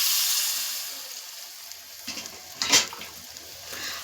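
Spiced rohu-type fish pieces with potato and cauliflower being stirred in a pan, giving a soft steady sizzle with a few brief scraping clinks of the spatula midway, close and fairly quiet.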